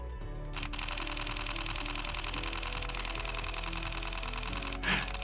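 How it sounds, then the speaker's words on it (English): A Fuji X-T3 mirrorless camera firing a rapid burst, its shutter clattering in a fast, even stream for about four seconds before stopping, close to the microphone with no talk. "hold down the shutter and the camera will just keep on firing"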